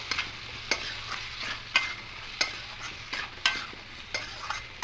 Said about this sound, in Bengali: এবার সব মশলাগুলো দিয়ে সবজিটাকে আরও ভালো করে এবার মিশিয়ে নেবো একটু